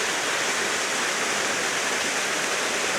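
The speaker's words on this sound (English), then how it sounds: "And there's the waterfall." Waterfall at Bonita Falls in Lytle Creek, San Bernardino National Forest, pouring in a steady, dense roar of rushing water that fills the whole clip without pause, close and loud.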